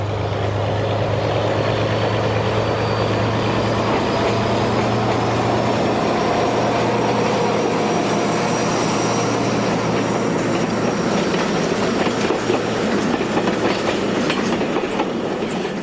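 A Portuguese 9021 class diesel train with 1,000 horsepower Alston engines climbs steadily along a valley side railway. Its engine drones low and steady, with rail clatter and some squealing near the end, and no voices.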